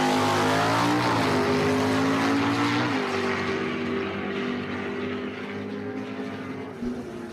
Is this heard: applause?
no